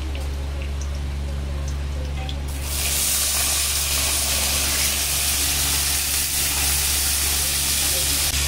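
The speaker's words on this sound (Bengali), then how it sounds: "খুব ভালো করে লঙ্কাটা ভেজে নিয়েছি। এবার দিয়ে দিচ্ছি ভিজিয়ে রাখা ছোলা।" Soaked chickpeas drop into hot oil with fried chopped chilli, and a quiet sizzle jumps to a loud, dense, continuous crackling hiss that stays close and steady.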